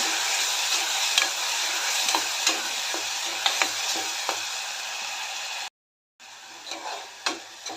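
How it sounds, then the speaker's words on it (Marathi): Masala gravy of ginger, garlic, curry leaves and tomato fries in oil in a pan, a steady close sizzle broken by occasional scraping stir clicks, with a brief silent gap partway through. "सर्व बारीक करून घेतलेला मसाला सर्व चांगले तेल सुटेपर्यंत परतून घेऊया"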